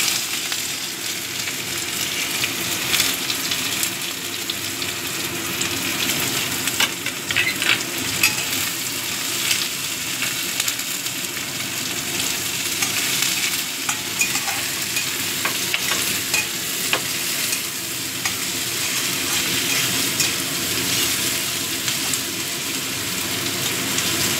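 Chopped onion frying in oil over cumin seeds for a Bengali duck egg curry: a steady, dense sizzle with crackling that holds for the whole stretch, close and fairly loud, with no talking.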